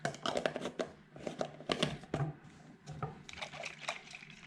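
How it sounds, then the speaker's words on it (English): Water being added to goat kid milk replacer and stirred, with irregular sloshing, splashing and clinking of the mixing container at close range, fairly quiet, and a voice talking at moments. "All right, you add the rest of the water."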